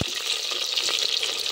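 Capsicum frying in hot oil tempered with five-spice (panch phoron) and a dried red chilli: a steady, dense, close sizzle and crackle with no talk.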